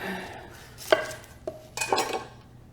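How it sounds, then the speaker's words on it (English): A knife julienning onions on a cutting board, with a few sharp knocks and clatters scattered over about three seconds, close and clear, with no talk. "go ahead and julienne our onions"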